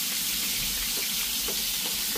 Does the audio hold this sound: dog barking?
no